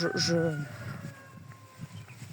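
A rooster crows somewhere in the distance, a single faint drawn-out call under quiet surroundings, with a voice briefly present.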